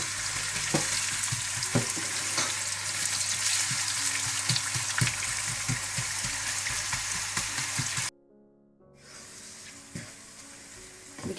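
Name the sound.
onions frying in hot oil until golden brown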